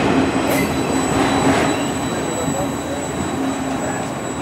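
A Norfolk Southern autorack freight train rolls past in Spartanburg, South Carolina, steady loud rumble with a high wheel squeal ringing throughout, brief talk under the noise.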